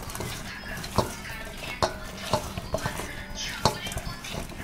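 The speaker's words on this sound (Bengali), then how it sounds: "দেখো আমি লবণ হলুদ দিয়ে মাখাচ্ছি পটলটাকে" Pieces of pointed gourd are tossed by hand with salt and turmeric in a bowl in a home kitchen, giving soft rustling stirs and a few sharp clinks against the dish while someone talks.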